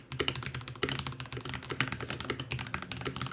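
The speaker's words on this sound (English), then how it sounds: "I've switched out the switches on mine for some Gateron G White Clear Pro switches" Rapid typing on a mechanical gaming keyboard fitted with Gateron G White Clear Pro switches, a dense stream of light clicky keystrokes at close range, moderately quiet and without talk.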